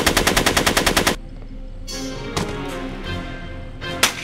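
Gunfire in Back to the Future: The Game: a rapid burst of about a dozen evenly spaced shots opens loudly, followed by scattered single shots over a quieter background.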